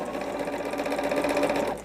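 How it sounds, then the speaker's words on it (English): A sewing machine runs in one short, steady burst of close, even stitching for patchwork. "I prefer to sew."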